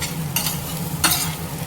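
Potatoes coated with chili powder sizzle steadily in a pan, with two quick scraping stirs of a spoon cutting through the frying hiss, close and fairly loud.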